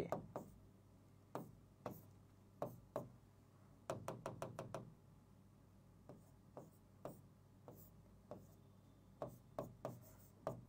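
Chalk or marker tapping and scratching on a board while vector terms are written out, a steady series of sharp knocks and short rubbing strokes in irregular bursts, close and fairly quiet with no talking.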